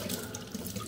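Water runs from a tap in a brief, steady splashing gush, close and fairly soft, with no voices.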